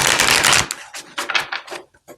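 A Grand Lux oracle card deck is shuffled up close: a dense riffling flutter of cards, then a few separate papery slaps and taps as the deck is squared, no voices.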